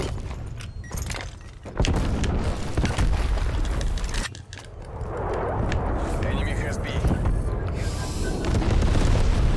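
Grenade explosions in the zombies mode of Black Ops Cold War, booming blasts amid constant game noise and gunfire, with someone talking over much of the action.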